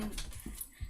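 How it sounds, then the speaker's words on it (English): A new puppy gives a few short, soft whimpering yelps indoors, close by and in brief bursts with small gaps between them. "So this is my new puppy."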